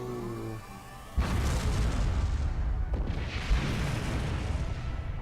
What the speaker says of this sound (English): we're going to blow up a base with just that much